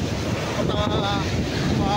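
Sea waves at high tide wash in a continuous rushing roar, mixed with gusty wind buffeting the microphone.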